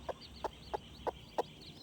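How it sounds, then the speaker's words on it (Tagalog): Black Australorp hen giving a steady series of short clucks, about five or six evenly spaced over two seconds, fairly close and clear over a quiet background. "So yan yung black australorp natin."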